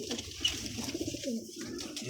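A pet rooftop pigeon gives soft, low cooing in short rounded phrases, fairly close and moderately quiet against a faint background.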